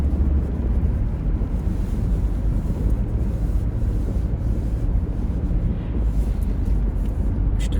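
Steady broadband road noise inside a moving car, a dense low rumble with tire and wind hiss holding at an even level throughout, with no voices.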